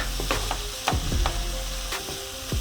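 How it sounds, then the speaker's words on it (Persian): Chicken pieces sautéing briefly in a pan for homemade chicken pizza, a loud close sizzle broken by repeated scraping and clacking strokes of a utensil against the pan, with no voices. "یه تفت کوچیک بخوره یه کوچولو رنگش عوض شه کافیه"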